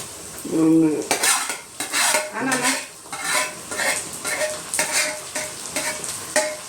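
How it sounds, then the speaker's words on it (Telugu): Tomatoes tipped into a hot pan for a Rayalaseema-style dish, then stirred with loud, repeated utensil scrapes and clinks over a steady close sizzle, with no talking. "ఇంకా టమోటాలు వేసేసుకుంటున్నా"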